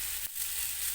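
Radish pieces sizzle in a pan with onion, giving a brief, steady hiss with a small dip in the sound near the start.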